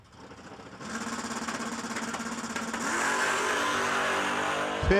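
Drag race cars, among them a Chevelle wagon, launching at a no-delay drag strip, loud engines roaring and rising steadily in pitch for several seconds, heard from near the track without talk.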